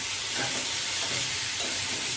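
Potatoes for aloo bhaji fry in a pan with a steady, hissing sizzle that stays even throughout, with faint stirring scrapes.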